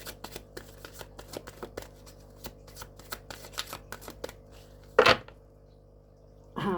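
Tarot cards being shuffled by hand in a quiet room, a rapid run of dense riffling flicks and taps with a sharper burst of card noise near the end, close and fairly soft.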